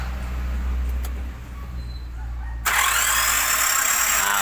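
An engine turns over and catches during an oil pump test, cutting from a low rumbling idle into a sharp, louder running roar partway through, close by with no talk.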